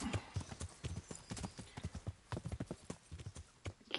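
A horse gallops in Kingdom Come: Deliverance, its hoofbeats a fast, irregular run of clip-clop thuds close by with some faint background sound.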